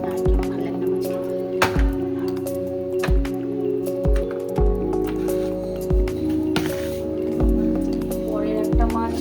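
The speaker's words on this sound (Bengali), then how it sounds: "টমেটো আর কালো জিরে দিয়ে কাঁচা মাছটা এখানে ভাজতে দিয়ে দিয়েছি।" Raw rohu fish fries in a pan with tomato and black cumin, giving a wet, sputtering sizzle broken by repeated sharp clinks and squishy pops as pieces are moved about.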